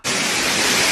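Water rushes loudly down a waterfall, a dense, steady roar that starts abruptly and fills the whole moment without a break.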